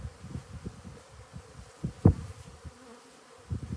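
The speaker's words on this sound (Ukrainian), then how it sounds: "Бджоли активно облітуються, облітуються рівномірно" Soft buzzing of honeybees flying about an apiary on a warm January day, a low steady drone with brief louder passes close by, no voices.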